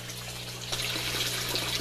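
Water flows steadily from a sump tank into fish tanks in an aquaponic greenhouse, a continuous even splashing and gurgling with a low pump hum underneath, heard alone at moderate level.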